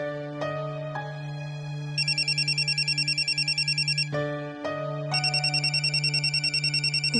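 A telephone rings with an electronic ringtone, a repeating pattern of bright tones sounding in two bursts with a short gap between, clear and fairly close, with no talking over it.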